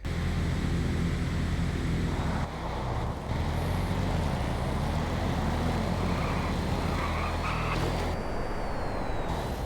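Street race cars battling in GTA, a Street Outlaws list night race, with engines roaring loudly and steadily throughout, a brief dip midway, then a rising whine near the end.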